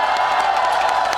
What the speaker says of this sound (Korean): 이분들께 다시 한번 박수 한번 쳐주세요.